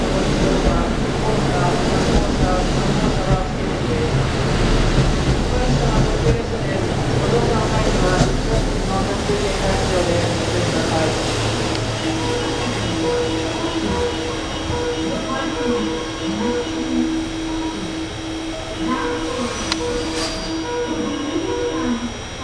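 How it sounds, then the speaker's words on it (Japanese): A four-car Limited Express Wide View Hida train rumbles and slows into Kyoto Station, with a low mechanical drone and Japanese announcements talking over it. "列車は4両で到着しております。"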